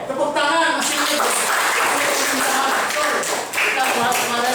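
A room full of people claps together in a dense, steady burst of applause that runs on for several seconds.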